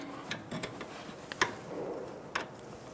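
A wrench working a sway bar link nut on a 2007-2011 Toyota Camry front strut, giving a few sharp metallic clicks and ratchety ticks spaced irregularly over a quiet garage background.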